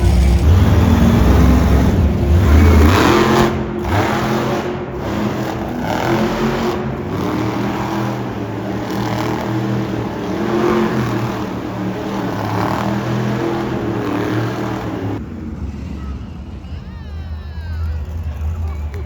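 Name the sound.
Hot Wheels monster trucks revving engines in an arena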